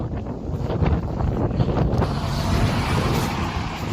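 Heavy wind blowing dust across a road: a loud, steady roar of gusting air buffeting the microphone, continuous throughout with no voices.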